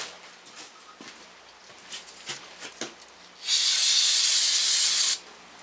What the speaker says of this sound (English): I'm going to clean these back down again with some brake cleaner.